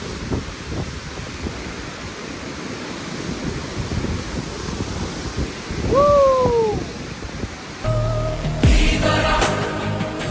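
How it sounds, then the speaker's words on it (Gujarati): Steady roaring rush of Dugarwadi waterfall near Trimbakeshwar, Nashik, fills the scene, with a brief whistling tone midway and a clattering disturbance near the end. "આ છે આપણો ધોધ"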